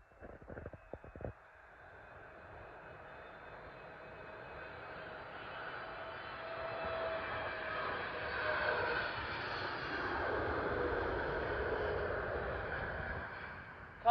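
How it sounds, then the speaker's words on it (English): A British Airways Boeing 777 landing at Heathrow from Mumbai, a faint distant jet whine that builds gradually into a soft, rising roar as it nears, after a few brief clicks at the start. "Coming in now is a Boeing 777 with British Airways from Mumbai"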